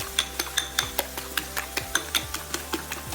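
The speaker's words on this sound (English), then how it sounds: "Quick and easy way to whisk your egg." A fork whisks eggs in a bowl for a veggie omelette, giving a brisk, regular series of light clinks, about five strokes per second, close and clear.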